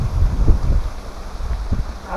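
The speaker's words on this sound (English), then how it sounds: "it's pretty windy" Strong wind gusting across a lakeshore campsite in the woods, a rumbling, buffeting roar on the microphone in uneven surges, with no talk.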